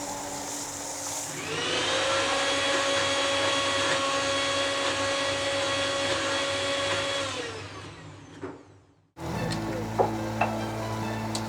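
A Bajaj mixer grinder runs steadily with a loud, even motor whine while grinding yogurt into a smooth paste, then winds down and stops, followed by brief kitchen clatter.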